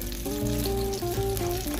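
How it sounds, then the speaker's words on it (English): Jamaican saltfish fritters fry in a narrow pot of oil, giving a steady, close sizzle and crackle that continues throughout, with a faint tonal hum running underneath. "So that's why it take this long time to fry."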